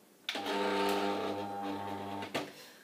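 A Silhouette cutting machine loads its cutting mat with a smooth, steady motor whir lasting about two seconds, starting and stopping with small clicks, close and fairly quiet.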